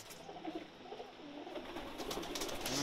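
Pakistani pigeons coo softly in a loft, low murmuring calls over a steady background hiss that grows slightly louder toward the end.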